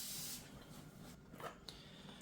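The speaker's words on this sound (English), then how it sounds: "Now, I like to always spray some WD-40 on a fresh drilled surface just to make sure it's nice and clean." WD-40 is sprayed from an aerosol can onto freshly drilled steel, a brief hissing burst at the start followed by faint handling noises nearby.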